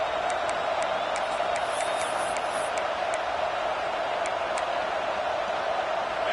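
A football stadium crowd at an Alabama game roars after an interception, a dense sustained wall of cheering with scattered whoops and whistles, distant and wide.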